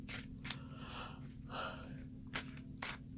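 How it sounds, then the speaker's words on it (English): A person yawns repeatedly in a quiet room, drawn-out breathy inhalations and sighing exhalations coming in several soft waves close to the microphone, with no talking. "Can't stop yawning."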